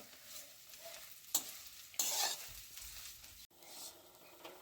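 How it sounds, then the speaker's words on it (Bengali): Flattened rice (chira) frying in a little oil with whole cumin seeds, a quiet sizzle broken by a few sharp stirring clatters and scrapes of the spoon against the pan; no speech. "চিড়েগুলোকে খুব ভালোভাবে একটু কমে ভেজে নেব।"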